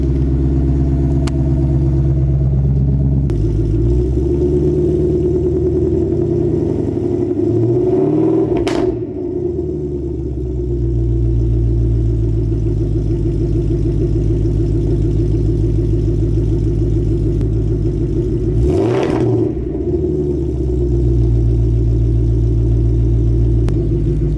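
A Ford Mustang engine with its catalytic converters deleted idles high near 1,000 RPM, a loud, steady, close rumble that runs alone throughout with a couple of brief swells.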